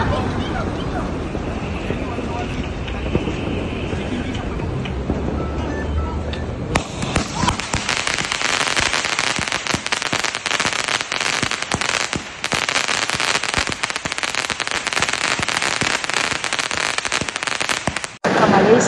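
Firecrackers burst during an Eid celebration outside a home in Malaysia, first as a lower rumble and then as a loud, dense, unbroken crackle of rapid pops. The crackle carries on steadily for most of the stretch, with crowd noise mixed in.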